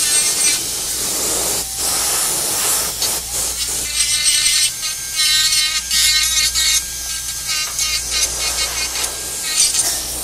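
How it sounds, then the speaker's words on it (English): A dental handpiece grinds excess material off an occlusal splint, a loud continuous high whirring hiss with brief dips and surges as the tool presses in and lifts away, close by. "I'm just grinding away the excess material here"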